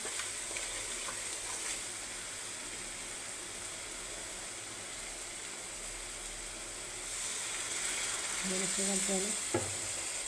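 Masala spice mix roasts in oil in a pan, giving an even, close sizzle and hiss throughout with faint stirring scrapes and a short clatter near the end.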